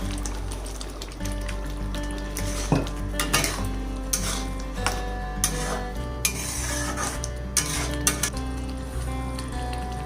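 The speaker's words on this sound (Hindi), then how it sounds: "अब मैं इसमें जो फ्राई किया हुआ पनीर था वो मैं डाल दूंगी।" Fried paneer cubes are tipped into spinach gravy in a metal pan, with a steady scrape of a spoon against the pan and repeated clinks and knocks of utensil on metal over a constant low hum.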